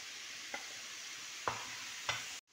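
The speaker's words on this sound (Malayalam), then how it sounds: "ഇതൊന്ന് നന്നായി വഴറ്റാം" Tomatoes, capsicum and carrot sautéing with onion in a pan make a steady soft sizzle, with three brief scrapes of a spoon stirring, heard close with no talk.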